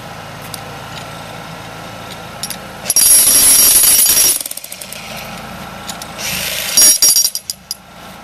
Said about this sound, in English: We took it down with the jackhammer